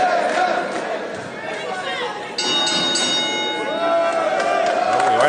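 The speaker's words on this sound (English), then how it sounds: "the bell has rung" A ring bell at a women's professional wrestling match sounds partway through, a bright clang that rings on over crowd chatter and an announcer talking throughout.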